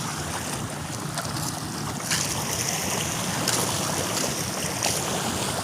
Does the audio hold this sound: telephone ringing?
no